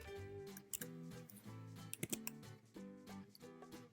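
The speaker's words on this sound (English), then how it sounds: "So I will delete the spaces and press the tab on the keyboard once for each line." Keys tapped on a computer keyboard while working in InDesign, scattered single clicks over soft background music, close and faint.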